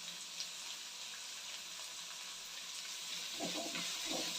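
Capsicum frying in a pan for egg rice gives a soft, steady sizzle throughout, with a few faint stirring scrapes near the end and no voices.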